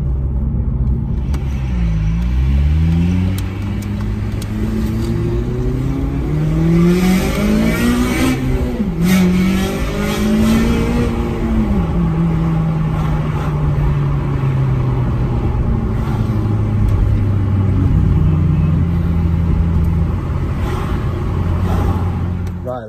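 Honda Civic Type R FN2 on the road, loud engine note rising and falling through gear changes with sustained revving, heard from inside the car under steady road rumble.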